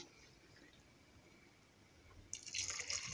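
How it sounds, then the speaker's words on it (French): Hot water poured into a pot of Moroccan-style lentils left simmering, a soft liquid rush starting late and swelling loud over a low kitchen background. "On rajoute de l'eau chaude."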